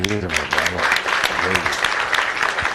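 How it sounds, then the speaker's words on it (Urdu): Thin, scattered audience clapping at a student question-and-answer session with a politician, running steadily for a few seconds beneath a speaking voice. "آپ نے تالی کمزور لگائی ہے"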